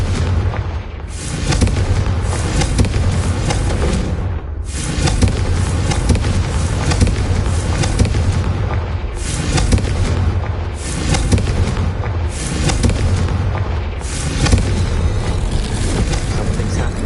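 Repeated booming blasts of the Confringo explosion spell in a Harry Potter video game, loud and continuous with dense rumbling layers and periodic short breaks between bursts.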